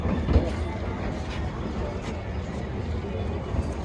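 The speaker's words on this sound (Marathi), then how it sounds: "ट्रेन चालली आहे बघा." Passenger train in a general coach rolls along with a steady low rumble and rattle of the carriage, continuous and close, with murmuring voices in the background.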